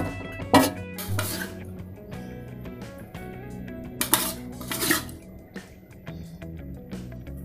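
Metal utensils clink and scrape against a pan as cooked bean sprouts are lifted out, a series of sharp close knocks and clatters spread across the stretch, with quieter stirring rustles between them.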